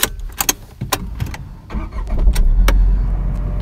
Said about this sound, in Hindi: एक बार मैं गाड़ी का इग्निशन ऑन करता हूँ